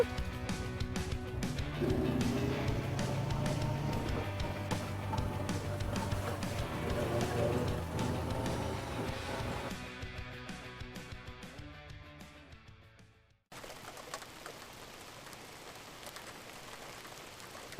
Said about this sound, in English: Another day, another rainy day.